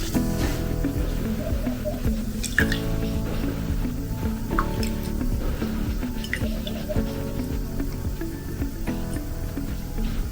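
Roughly 8 grams of pH buffer liquid is added to a homemade salicylic acid acne toner, giving soft drips, squishy liquid sounds and small splashes against a steady low background.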